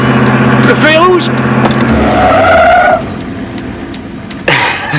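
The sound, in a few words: car braking hard with tires skidding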